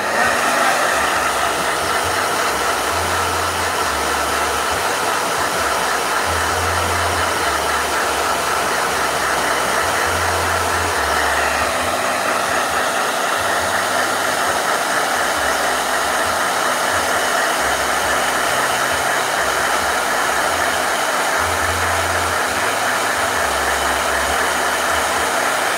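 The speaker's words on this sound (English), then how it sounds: "All right, blow dryer." A blow dryer runs continuously close by, a loud, steady airy roar with a low motor hum beneath it throughout, with no voices.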